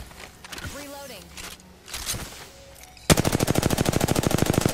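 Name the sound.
gunfire in Apex Legends video game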